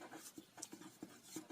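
Short scratchy strokes of pen or chalk writing out a math equation, several quick taps and scrapes in an irregular rhythm, faint and close, with no talking.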